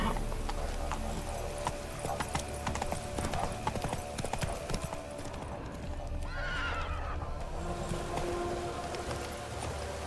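The horse Roach in The Witcher 3 trots steadily, with continuous rhythmic hoof clip-clops, a short whinny partway through, and a low ambient hum underneath.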